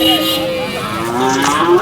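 A large dairy cow at a cattle market in Sangola gives a long, drawn-out moo, loud and close, with a sliding pitch and crowd noise behind it.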